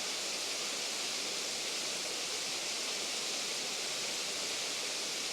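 A waterfall in a rocky landscape with bushes near the water, heard as a steady, dense broadband rush of falling water that stays constant and unbroken throughout, with no voices over it.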